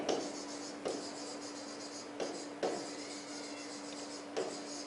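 Pen or marker writing a math answer on a board, steady scratchy strokes with short pauses between them, close and moderately quiet, with no talking.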